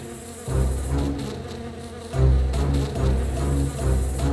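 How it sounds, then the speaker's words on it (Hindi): A dense, loud insect buzz drones continuously, swelling and pulsing like many bees swarming close by, with no voices. "उसने अपनी विशाल मधुमक्खियों को पुकारा, इन घुसपैठियों को डंक मारो।"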